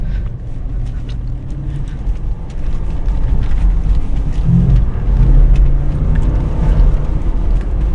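A Lexus GX 460 SUV drives over sand dunes, its engine a loud, steady low roar mixed with rushing wind and rumble that swells slightly midway.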